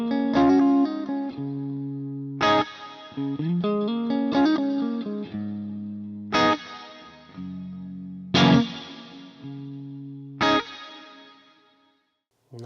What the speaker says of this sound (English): I would start adding a plate reverb